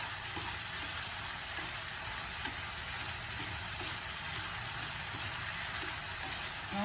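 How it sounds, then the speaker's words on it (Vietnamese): Chinese sausage, dried shrimp and pork stir-fried together in a pan, giving a steady, even sizzle with faint stirring scrapes throughout and no talking. "các bạn xào cho nó thấm đều gia vị vào các lạp xưởng nè, tôm khô nè, thịt nè"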